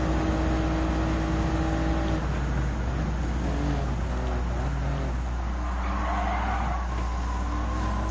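Race cars in the Gran Turismo 7 racing game, a Toyota Gazoo Racing GT Cup round, give a continuous engine drone with tire squeal and skidding rising and falling, loud and sustained, with no talk.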